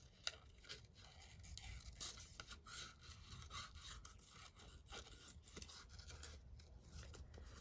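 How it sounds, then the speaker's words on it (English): Scissors snip and rasp through paper while a junk journal tag is being made, a steady run of close, quiet cutting and rubbing strokes with a sharp click near the start, without any talk. "I'm just going to cut this out as well."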